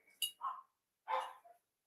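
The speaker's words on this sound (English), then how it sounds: "Uh-oh, dogs are barking." A dog barks a few times outdoors at night, short sharp barks spaced apart with silence between, faint and somewhat distant.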